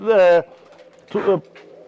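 A pigeon from a flock of competition flying pigeons gives two close, clear coos separated by a short pause, loud against a quiet background.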